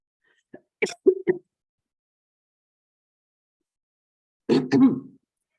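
A few sharp, close coughs from a person with a lingering cough after a rhinovirus infection, then a pause and another rough cough burst, with silence in between.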